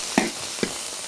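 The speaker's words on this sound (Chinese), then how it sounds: "再把前面备好的辣椒倒下去炒一下" Chili peppers stir-fried in a wok with a little oil and garlic, with fried eggs to be added. Two short, sharp spatula scrapes ring out over a faint, steady sizzle.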